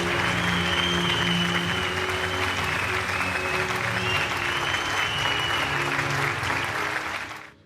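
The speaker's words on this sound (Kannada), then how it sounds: "ಬನ್ನಿ ಜೋರಾದ ಚಪ್ಪಾಳೆ" An audience at the Chittara Star Awards ceremony applauds a youth icon award winner with sustained, dense clapping that fills the hall for about seven seconds. The applause fades out at the end.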